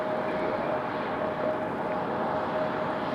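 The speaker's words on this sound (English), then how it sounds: "our Delta 717, our Boeing 717 left first" A Delta Boeing 717 airliner departs Raleigh-Durham airport, a dense, continuous engine roar with a thin steady whine running through it, loud and unbroken, with nobody speaking.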